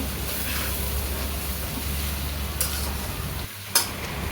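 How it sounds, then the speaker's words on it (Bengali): Rice for Munshiganj Bikrampur bouya bhaat is stirred as it fries dry in a pan, a steady close sizzle with scraping stirring strokes and a couple of sharp clinks near the end, without speech. "আমি কিন্তু ভালোভাবে নেড়ে চেড়ে দিচ্ছি যেন নিচে লেগে না যায়, পুড়ে না যায়"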